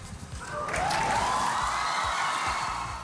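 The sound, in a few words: family cheering and applauding from the spelling bee gallery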